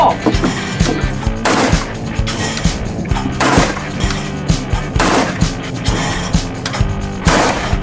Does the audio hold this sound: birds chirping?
no